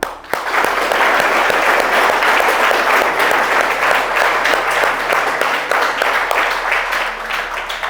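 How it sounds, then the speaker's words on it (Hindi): A seminar audience on engine rebuilding claps steadily and loudly for several seconds, a dense sustained round of applause filling the hall. "अपने लिए ताली बजाइए अच्छे से।"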